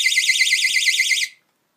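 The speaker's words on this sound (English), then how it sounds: "And you have a false alarm." A tripwire alarm shrills with a loud, warbling electronic tone, rising and falling quickly for just over a second. It cuts off abruptly into silence.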